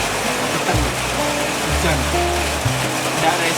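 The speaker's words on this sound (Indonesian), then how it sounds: "Hujan." Heavy rain falling at a mountain hiking rest post on Gunung Lawu, a loud steady hiss of downpour with voices talking over it.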